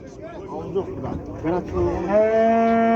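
Cows at a livestock market in Kyzylorda call out with a loud, drawn-out moo that swells and holds near the end, while nearby voices chatter.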